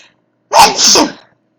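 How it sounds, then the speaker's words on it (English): A single loud, close sneeze in two bursts, a sharp intake then an explosive release, with silence before and after. "I gotta sneeze."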